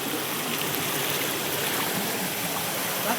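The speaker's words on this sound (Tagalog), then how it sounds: "Bakit malakas pa dito ang tubig?" A strong flow of cold stream water rushes continuously, a dense, steady roar of moving water that fills the whole stretch without pause.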